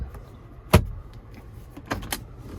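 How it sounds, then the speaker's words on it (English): An electric power window on a Hyundai Santa Fe Limited (2024) runs with a short motor whir and a sharp clunk, followed by a couple of softer clicks and thumps, close-up in a quiet car interior. "I just rolled the window down."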